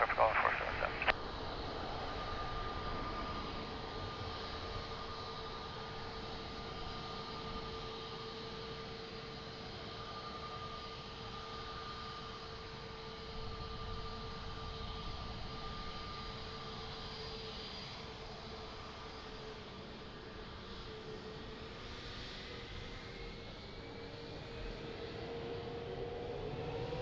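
An airliner takes off from runway 02 at Lisbon Airport. Its engines roar in a steady, distant rumble with a sustained whine that slowly shifts in pitch, under faint radio chatter.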